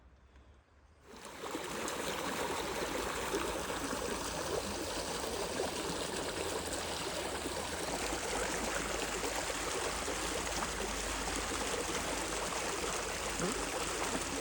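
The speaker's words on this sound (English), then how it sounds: "Now, I'm getting this flowing river water" Steady rushing of flowing river water, continuous and fairly close, starting after a brief quiet moment and holding an even level throughout.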